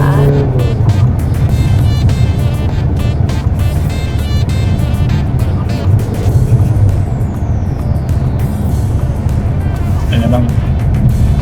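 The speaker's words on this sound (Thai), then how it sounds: "มีเสียงให้หายง่วง นิดหน่อยเวลาตอนที่มอเตอร์มันทำงาน" A Chery car engine hums and rumbles steadily while driving, loud and close, with a person talking over the road noise.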